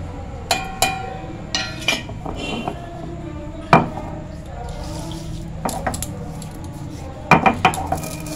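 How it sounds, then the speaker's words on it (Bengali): Roasted whole spices for mango pickle being ground by hand: a close series of sharp, irregular knocks and clinks with short pauses between strikes. "গোটা মশলাটা ভেজে রেখেছিলাম, ঠান্ডা হয়ে গেছে, এরপর আমি গুঁড়িয়ে নিচ্ছি।"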